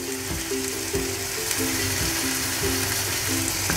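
Tomatoes fry and sizzle in a pan for Kerala fish pollichathu while they are stirred, giving a steady close crackle with soft recurring scrapes of the spoon and no talk.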